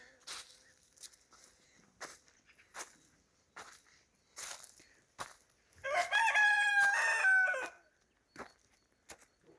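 A young rooster bought as a pullet crows once, loud and close, a long stepped call standing out between scattered footsteps and soft clucks in a quiet yard.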